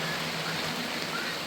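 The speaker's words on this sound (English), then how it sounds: "here we are again in the rain." Steady rain falling on plastic sheeting and a garden patch, a constant even hiss with fine pattering, moderate and unbroken.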